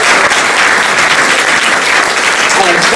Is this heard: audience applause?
yes